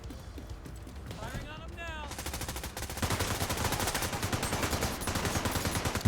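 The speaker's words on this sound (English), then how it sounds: "Who is shooting me?" Gunfire in The Division 2, rapid automatic fire that starts faint and grows into steady fast bursts, with a few distant shots and a voice earlier.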